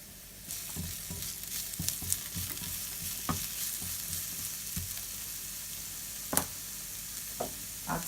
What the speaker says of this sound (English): I'm going to give my onions a little stir.